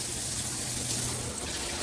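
Water spraying steadily from a G-Promise rainfall shower head, a continuous close hiss of falling water lasting the whole moment with no voices.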